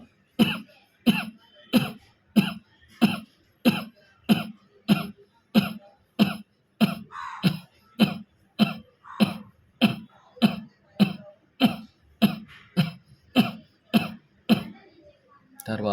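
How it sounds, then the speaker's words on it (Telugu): Forced throat coughs done as a pranayama breathing exercise, about two dozen sharp, evenly spaced bursts, each followed by a nasal exhale, repeating steadily and close up with no talk. "దగ్గి ముక్కుతో వదలండి."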